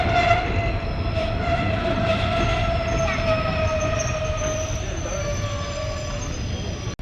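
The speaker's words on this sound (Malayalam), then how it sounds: "നിലമ്പൂരിക്കുള്ള ട്രെയിനാണ് ഇപ്പോൾ വന്നുകൊണ്ടിരിക്കുന്നത്" A Nilambur-bound passenger train pulls into Melattur railway station in Kerala, its steady rolling rumble joined by long sustained wheel squeals and horn-like tones, loud and close throughout, with no talk.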